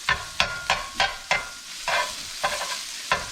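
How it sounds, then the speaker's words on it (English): Jimmy Dean sausage crumbles sizzling in a frying pan as a utensil breaks them up, with repeated scraping, stirring strokes about every half second, loud and close, no talking. "the Jimmy Dean crumbles up really nice"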